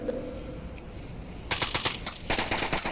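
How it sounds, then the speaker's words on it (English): Gunfire in the VR shooter Onward during a competitive NATO vs Relics of Warfare match: quiet ambience, then dense automatic bursts start about halfway and continue in rapid rattling volleys, fairly loud. "Gunshots coming out, not landing"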